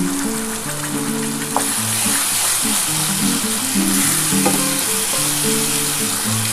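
Spice paste of mustard, garlic, green chili and tomato hits fried onions in hot oil for a fish curry, sizzling loudly and continuously with stirring clatters throughout.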